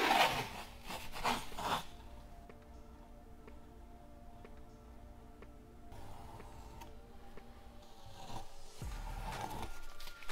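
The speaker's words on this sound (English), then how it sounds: "We're going to sand all of this down." Sandpaper rubbing across a boat engine cowling, with raspy strokes coming in short bursts near the start and again later, moderately close, with a quieter stretch in between.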